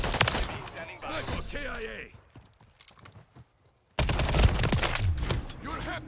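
Game gunfire in a Call of Duty-style shooter, sharp shots bursting with a voiced radio callout over them, a quiet lull midway, then a loud renewed volley close by.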